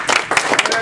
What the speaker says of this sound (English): let's give another round of applause for Heather.